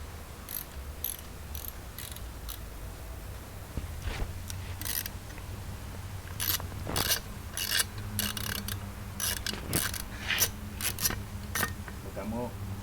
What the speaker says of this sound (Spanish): Así que vamos a acceder al segundo tornillo que está en la parte de abajo y cambiar la cerradura. Sacamos el segundo tornillo.